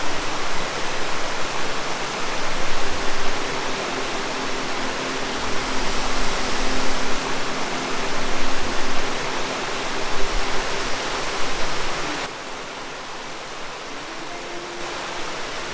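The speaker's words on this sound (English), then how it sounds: "What's cool along this trail is all these waterfalls everywhere you stop." Water pours down a cliffside beside a bike trail, falling in a steady, loud rushing roar that stays constant and dense throughout, easing slightly near the end.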